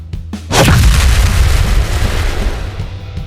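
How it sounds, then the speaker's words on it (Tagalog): A massive explosion sound effect in a fantasy audiobook: a short thump, then a huge booming blast erupts, followed by a roaring, rumbling decay that lingers loud to the end, with no voice over it. "Sumabog ang isang malaking bulwak ng puting apoy mula sa salpukang naganap sa iniwanang lugar ni Beast"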